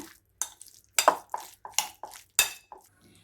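Avocado being mixed with a little lemon juice in a bowl, heard as a series of sharp spoon clinks and scrapes against the bowl, about seven distinct knocks at an uneven rhythm, close and fairly loud with no talking.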